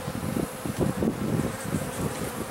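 A dense, continuous hum of buzzing honeybees swarming close by over a honeycomb, steady throughout with no pauses.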